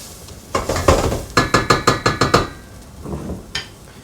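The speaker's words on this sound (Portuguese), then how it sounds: "Vamos fritar bem o arroz." Arborio rice frying for risotto in a pan, a rapid run of sharp scraping and tapping strokes from a utensil against the pan over a faint sizzle, close and without talk.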